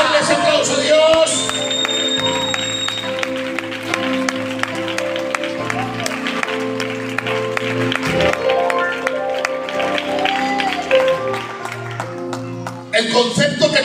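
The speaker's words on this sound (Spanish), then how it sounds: "¿Pueden darle ese aplauso a Dios?" A church congregation applauds amid loud music with a steady beat, the clapping and scattered shouts of the crowd mixed under sustained instruments and voices throughout, ending abruptly near the close.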